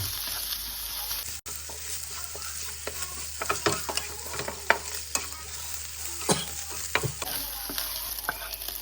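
Scrambled egg stir-fries with wilted onions in a hot pan, a continuous close sizzle broken by frequent scraping and stirring clatters.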